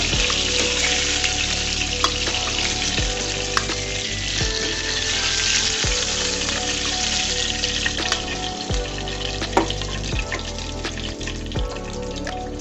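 Fish deep-frying in hot oil in a pan gives a steady, dense sizzle with a few sharp crackles and pops, close and loud, running throughout with no voices.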